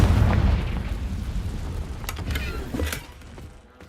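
A Confringo fire spell explodes in the Hogwarts Legacy video game, a loud deep boom that rumbles and then tails off with a few crackling bursts over about four seconds.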